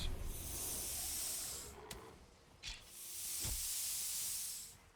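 Magic spray attacks in the video game Valheim give off long, breathy hissing bursts, two sustained sprays separated by short clicks and thumps, at a fairly quiet level.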